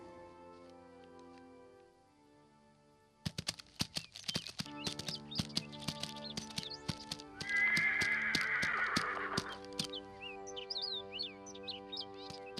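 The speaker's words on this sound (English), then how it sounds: "he was riding on his horse" A horse whinnies loudly amid a busy run of sharp clip-clopping hoofbeats, with birds chirping in the background and the hooves continuing after the neigh.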